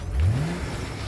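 A 2004 Corvette fitted with a MagnaFlow exhaust gives one short rising rev, the engine note climbing quickly and then settling into a steady idle, close and fairly loud.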